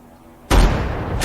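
A single loud gunshot in an action film bursts out of near-silence, its sharp crack ringing out into a sustained, booming roar.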